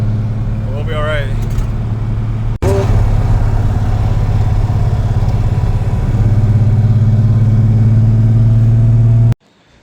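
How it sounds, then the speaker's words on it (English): A loud, steady engine drone from a VR6-swapped MK1 Rabbit pickup truck with no working clutch, driven on streets in first and second gear. It holds a constant low rumble throughout, with a brief dip partway and a cut at the end. "just driving first, second gear throughout the streets"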